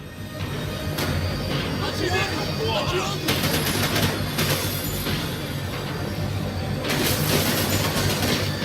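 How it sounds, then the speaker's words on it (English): A tram full of armed enemies rumbles along its rails in the Max Payne 3 video game, a dense continuous rattle and clatter with bursts of crashing impacts and voices over it. "Of course there'd be a tram full of goons trying to derail me."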